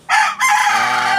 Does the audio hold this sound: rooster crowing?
yes